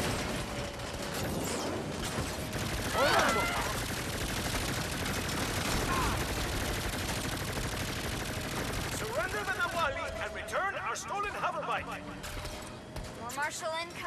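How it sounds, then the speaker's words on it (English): Gunfire rattles at an RV in the video game Saints Row, with continuous dense bursts of shots and mechanical clatter, while voices talk over the shooting. "Marshall incoming. They're shooting the RV!"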